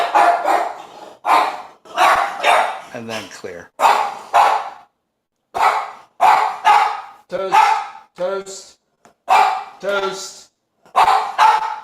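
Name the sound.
dog barking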